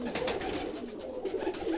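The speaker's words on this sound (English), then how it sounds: "This bird here is a short beak Budapest gazelle." Short-faced Budapest pigeon cooing in a loft, soft repeated low coos rolling on continuously and close by, over a faint background hiss.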